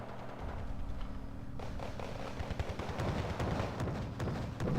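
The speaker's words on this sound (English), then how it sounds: "It's taking heavy fire." Distant gunfire and explosions rumble through a real-time strategy game battle, a low, steady barrage of shots and thuds kept fairly quiet and continuous.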